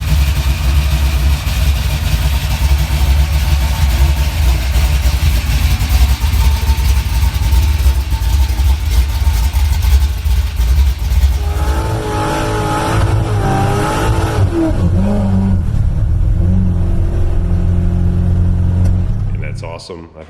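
An early Ford F100 truck's V8 engine with a big cam and high compression runs and revs steadily and loudly, with the tone shifting near the end as it settles.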